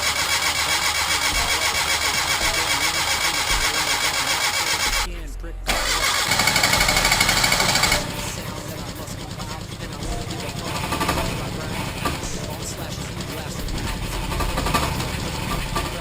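Geo Metro car engine with a coolant leak and suspected head gasket fault running, a loud steady engine drone that cuts briefly then picks back up with a rougher idle, under someone talking.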